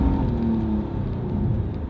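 An old Nissan car with 152,000 miles pulls away with a steady low engine rumble and whir that builds through the gears. It sounds loud and close, from inside or just beside the car, with no talking.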